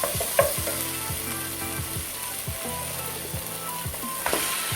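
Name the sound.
chicken pieces frying in hot pan with tomatoes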